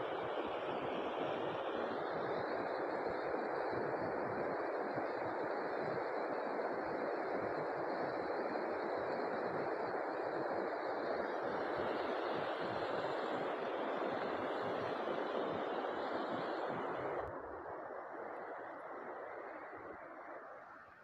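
Flowing stream water rushes in a steady, dense wash that stays fairly loud throughout, softening slightly near the end, with no voices.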